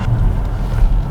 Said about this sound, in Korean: 이 가속 페달을 급전개를 하면 이 디젤 엔진임에도 불구하고 이 엔진음 자체가 조금 좋은 엔진음색이 좀 들어옵니다